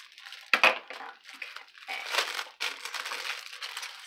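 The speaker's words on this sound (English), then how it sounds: "Sorry for all the crinkling." Plastic packaging crinkles and crushes up close in bursts of sharp rustling, with a loud crumple near the start and steadier crackling through the rest.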